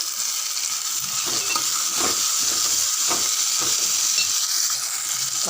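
Tomatoes, crushed garlic, curry leaves and lentils sauté in oil in a pan for carrot sambar, a steady close sizzle broken by repeated scraping stirs of a spoon, with no talking.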